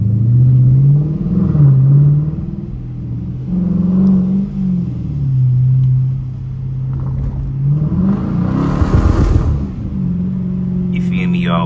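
A Dodge Challenger RT's engine swells and revs repeatedly, with a louder rumbling burst near the end, as the tires slip on a wet, rainy road late at night; someone talks over the engine.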